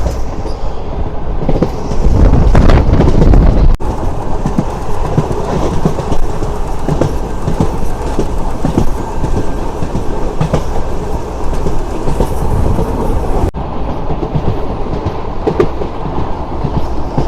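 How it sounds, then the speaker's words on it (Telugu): A Seshadri Express train from Tirupati to Bengaluru rumbles steadily along the rails with a continuous clickety-clack, heard from close inside for the whole stretch. "మన ట్రైన్ వచ్చేసి పక్కల జంక్షన్ అయితే వచ్చేసింది"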